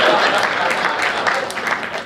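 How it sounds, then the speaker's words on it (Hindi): Audience at a Hindi comic poetry gathering clapping loudly and continuously, a dense, close burst of applause lasting a couple of seconds. "एक बात तालियां बजाइए।"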